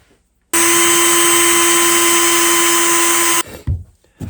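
A power drill bores a hole during a Bonafide SS rudder kit install, a loud steady high-pitched whine held for about three seconds, close up, then cutting off, followed by a few clunks and handling noises.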